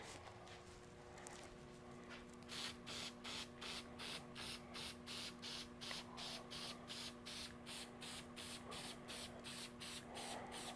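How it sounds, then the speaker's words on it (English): A spray bottle mists liquid onto sea foam stems being grown into N scale model trees. Roughly twenty quick, even spritzes follow one another in a steady rhythm over a faint constant hum. "You can hear the little spray noises."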